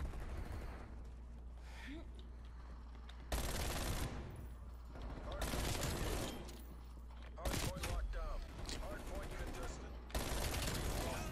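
A Mac-10 submachine gun fires in Black Ops Cold War in several rapid full-auto bursts, loud and close, with short gaps between them.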